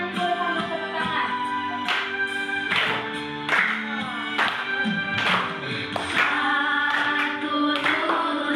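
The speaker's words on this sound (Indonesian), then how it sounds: "Kita bernyanyi boleh sambil tepuk tangan." A class of students sings a national song while clapping hands in rhythm, the sharp claps falling in a steady beat beneath the group's close, tuneful voices.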